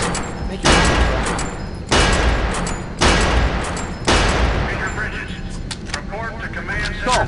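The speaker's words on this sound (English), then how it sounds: "Step on over to the range and fire off a few shots." Gunfire at a firing range in the Area 51 video game: four heavy bursts of rapid shots, each about a second long, loud and close with short gaps between, followed by scattered rattling and faint voices.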